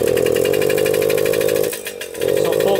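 A Suzuki JR 50 dirt bike engine idles loud and close with a rough, boggy buzz, dipping briefly before picking back up, with no voices over it.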